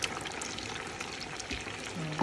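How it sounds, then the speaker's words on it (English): Pepper sauce poured over rice in a pot for palm oil concoction rice, a continuous wet pouring and trickling sound, close and moderately loud, with a small clunk near the end. "You pour the pepper on the rice, like you're cooking jollof rice."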